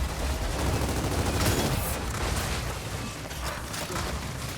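Heavy, continuous gunfire in Gears of War 4, with loud automatic bursts and booming impacts filling the clip without a break and no talk over them.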